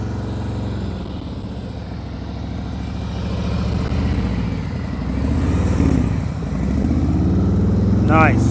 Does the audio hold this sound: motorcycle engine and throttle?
yes